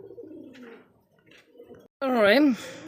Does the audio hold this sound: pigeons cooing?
yes